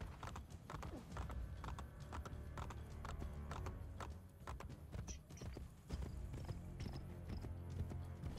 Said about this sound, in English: sound of horses galloping is just as satisfying as cats purring